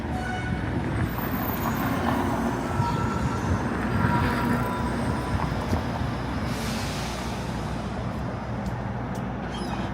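An eastbound 506 Carlton streetcar rumbles past on a Toronto street, a steady rolling drone of wheels and motors with city traffic noise around it, building slightly then easing off.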